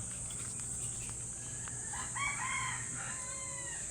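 An African bird calls a few times in quick succession midway, with short, tonal, rising notes over a steady background hum, fairly faint.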